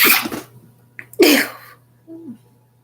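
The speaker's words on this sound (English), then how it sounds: "damn, big ass sneeze" One loud, sharp sneeze bursts out close by after a short breathy intake, then the room goes quiet and a faint voice murmurs briefly.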